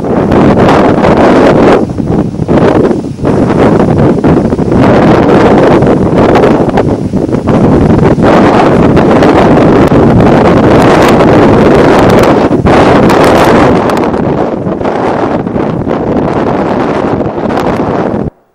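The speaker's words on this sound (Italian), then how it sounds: "una nave che nel mare in tempesta ha effettuato un'impressionante virata" Strong storm wind at sea off the island of Vivara near Ischia, roaring loud and continuous as it buffets the microphone with harsh gusting rumble, then cutting off abruptly at the end.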